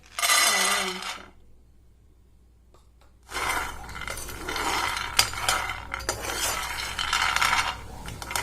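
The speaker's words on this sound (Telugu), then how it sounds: "లో ఫ్లేమ్లో బాగా వేయించుకోవాలి ఇలా బ్రౌన్ కలర్లో వచ్చేంత వరకు వేయించుకోవాలి" Peanuts dry roasting in a pan over low flame, heard as a short burst of rattling and scraping, a pause of near silence, then continuous clinking, stirring and tumbling of the nuts against metal, close and fairly loud.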